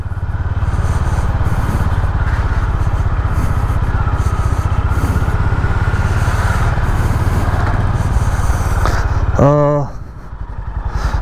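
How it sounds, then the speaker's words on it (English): A Honda CB 350 H'ness motorcycle pulling steadily in second gear, its engine giving a continuous low drone under heavy wind rush, with a brief mechanical rattle near the end. "Linear power on the bike, second gear"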